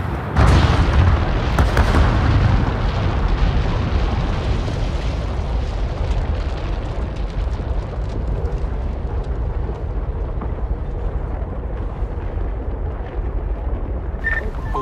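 The demolition blast at Eggborough Power Station opens with a huge boom, then a long rumbling roar of collapsing structure and debris that gradually fades over many seconds, loud and heard from a distance.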